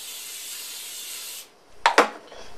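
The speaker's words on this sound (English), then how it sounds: "in this stainless steel pan, I'm going to put some cooking spray on there" A steady hiss of cooking spray into a stainless steel pan runs for over a second, then stops, followed by two quick scraping rubs of metal close by.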